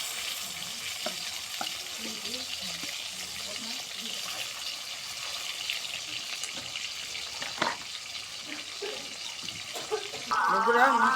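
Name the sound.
pangas fish frying in oil in a wok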